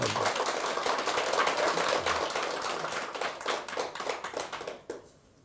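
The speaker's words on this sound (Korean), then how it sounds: "이럴 때 박수 한번 쳐야지." Audience clapping at a Buddhist monk's Dharma talk, a dense patter of many hands that fades and thins out over the last second.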